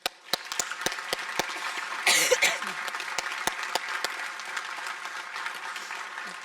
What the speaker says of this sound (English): Please join me in a round of applause showing our appreciation for Mr.